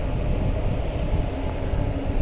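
A train at a railway station gives a steady, fairly loud low rumble that holds evenly throughout, with no voices.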